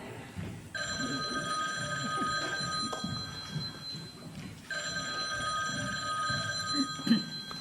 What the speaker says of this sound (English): my parents got a phone call on their landline.